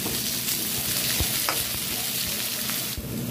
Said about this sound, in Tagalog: Gigisahin lang natin guys yung onion, garlic, and guys yung ginger nalagay na natin